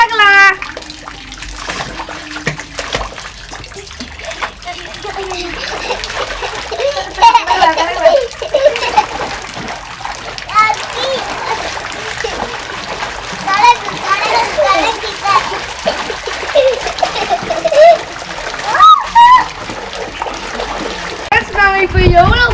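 Water splashes and swishes as shampoo is mixed into a kids' outdoor swimming pool, with steady sloshing and trickling throughout while children and an adult talk over it.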